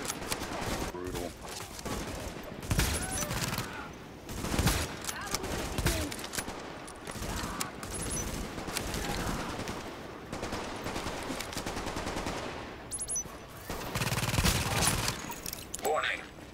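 Sustained video game gunfire crackles in repeated bursts of rapid shots, with heavier volleys scattered throughout and game voices speaking between them.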